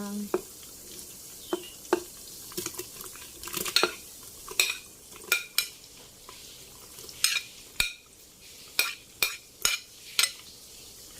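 Garlic goes into hot oil in a pan and is stirred, giving a soft steady sizzle under repeated sharp clinks and scrapes of a utensil against the pan, close and irregular, with occasional faint talk.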